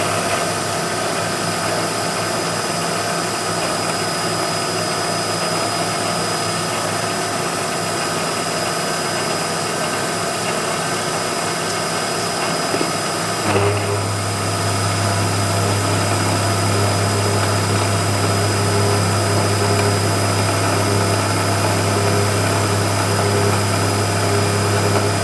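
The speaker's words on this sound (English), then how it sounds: "That little Bassett end mill is just zipping right through there." A Baby Bullet milling machine runs at 1600 RPM as a small Bassett end mill is hand-fed through metal. A steady, close motor hum and whine holds throughout, with a deeper loaded tone joining about halfway. No one speaks.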